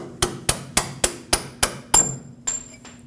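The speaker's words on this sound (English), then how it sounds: "If needed, use a punch to continue driving it out." A punch struck with a hammer to drive a bolt out of the front upper control arm on a 1998-2011 Ford Ranger: seven sharp, evenly spaced metallic strikes, close and loud, followed by a couple of lighter taps with ringing.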